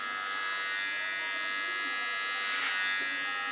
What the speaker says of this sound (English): it makes life a lot easier as a hairdresser when you do this with a small clipper